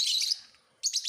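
Small birds kept in a birdcage chirp in quick, high, bright bursts: a run of twittering, a brief pause, then another cluster of rapid chirps, fairly close.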